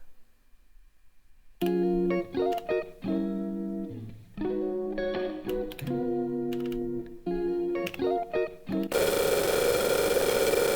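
An Elektron Octatrack with its plate reverb bug bursts into harsh, glitchy digital feedback: choppy stuttering tones that cut in and out loudly, ending in a sustained wall of dense noise.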